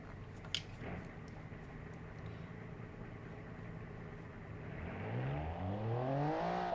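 A Group B rally car with a boxer six engine in a racing game idles with a low, steady drone, then revs up in a rising, swelling engine note toward the end.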